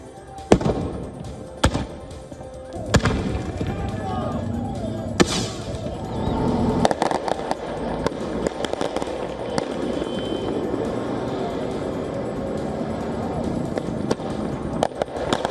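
Firecrackers set off by demonstrators during clashes with police at a Los Angeles protest, a few sharp loud bangs early on and then a sustained crowd din with scattered pops, fairly close.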